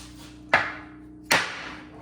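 Two sharp metal-on-metal smacks about 0.8 seconds apart, struck on a Dana 30 axle shaft during a U-joint repair on a 1996 Jeep XJ, each ringing briefly in a quiet garage with no talk.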